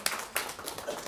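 Scattered applause in a city council meeting chamber, a few hands clapping unevenly with soft taps over a hushed room, moderately distant and brief.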